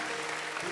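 A church congregation applauding at an online worship service, a dense, steady wash of clapping that fills the short moment without pause.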